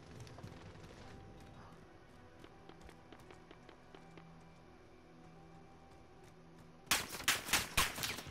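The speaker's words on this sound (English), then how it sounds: "Oh, I'm getting shot at." Distant scattered gunshots tap through the background in Call of Duty Warzone's Zombies Royale mode, then a loud close burst of about five rapid shots erupts near the end.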